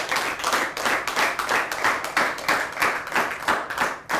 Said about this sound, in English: Please, a round of applause for our debating team.